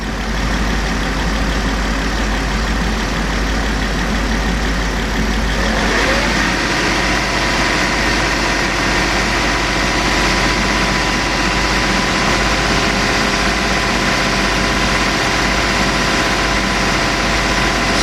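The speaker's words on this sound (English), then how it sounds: "I'm gonna bring the RPM up just a little bit" A Lincoln LS engine that has a no-heat fault rises from a steady idle to a slightly higher RPM partway through, then holds at that raised speed with a loud, continuous hum.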